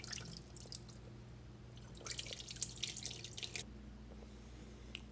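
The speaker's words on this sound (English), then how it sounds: "Drain the water out." Water drains and trickles from rinsed striped bass in a kitchen, with soft splashing and dripping bursts at close range and no talking.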